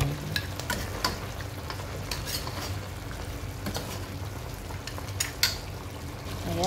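Beef adobo with cauliflower stirred in a frying pan, a continuous close sizzle and bubbling fry with scattered scraping taps of the spoon against the pan at an uneven rhythm.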